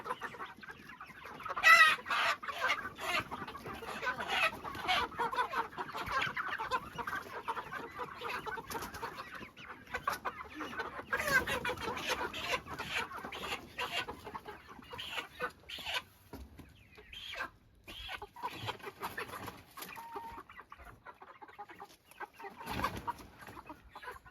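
Chicks clucking and peeping in a steady chatter of many small bird calls, moderately faint, with occasional louder chirps and some background noise.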